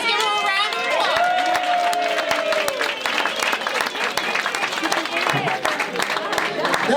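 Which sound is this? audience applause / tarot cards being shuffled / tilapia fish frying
audience applause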